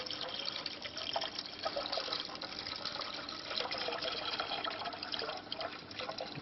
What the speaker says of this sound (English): Top it up with filtered water.